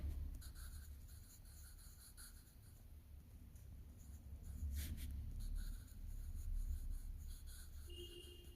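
Marker or chalk writing on a board during a chemistry lecture: faint, close scratchy strokes in short irregular bursts over quiet room tone, with one sharper tap midway.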